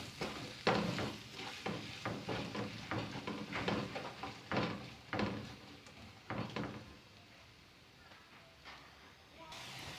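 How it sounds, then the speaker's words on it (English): Chopped onions frying in a pan for a spicy potato dish, with rhythmic stirring scrapes over a light sizzle that fade out toward the end. "fry the onions until they turn light brown in color"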